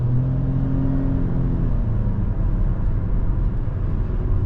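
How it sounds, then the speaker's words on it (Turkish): A new Ford Focus engine in sport mode revs up while driving along a narrow road at 70-80 km/h, a steady, fairly loud in-cabin drone with a deep low hum throughout and no talking. "Evet şimdi sport oldu belli oldu. Hemen deviri yükseltti."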